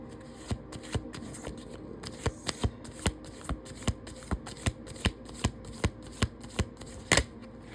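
Oracle cards being shuffled by hand, a brisk run of regular riffling snaps about every third of a second, close and clear, with no voices.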